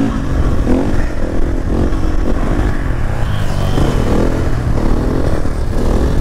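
A Husqvarna FE501 dirt bike engine revs loudly and close in a continuous, rough, clattering run, with no talk.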